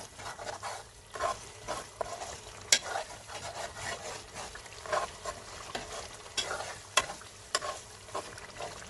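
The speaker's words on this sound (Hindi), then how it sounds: "क्रीम की भी अच्छी तरह से चिकन के अंदर बुनाई करेंगे" Cream is stirred into chicken karahi in a pan, giving a soft, irregular run of scraping and stirring strokes over a gentle sizzle, with occasional sharper clinks of the spoon against the pan.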